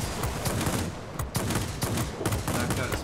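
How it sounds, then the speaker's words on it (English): Heavy 30mm automatic cannon fire from a Ki-162-III in World of Warplanes, in rapid, continuous bursts, loud and close, with brief gaps between volleys. "30mm cannons, you really want to aim further out."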